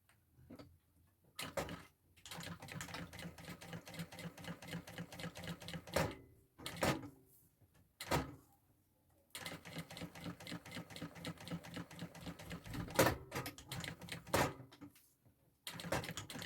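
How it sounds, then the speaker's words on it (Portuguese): A sewing machine stitching down a folded fabric strip, a fast steady mechanical needle clatter in long close runs broken by short pauses and a few sharper knocks as the fabric is repositioned. "Dobrei tudo pra dentro e vou costurar."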